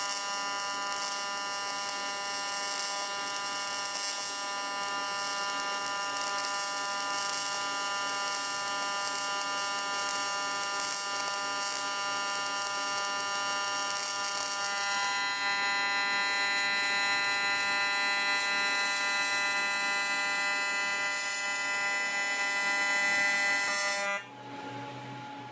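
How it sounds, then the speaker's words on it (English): A TIG welding torch fitted with a Pyrex cup gives off a steady, high electric buzz with a bright whine, unbroken for about twenty-four seconds before cutting off abruptly, leaving quieter hiss. "I'm trying out a Pyrex cup on my TIG torch, and it certainly lights everything up better."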